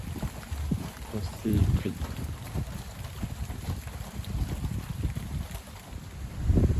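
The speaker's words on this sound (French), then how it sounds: "que le vent se renforce. On atteint 60 km/h maintenant." Strong west-northwest wind gusting at around 60 km/h during a squall buffets the microphone in a steady roar with surging gusts, and someone speaks briefly over it.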